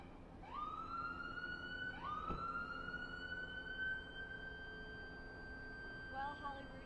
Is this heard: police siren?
yes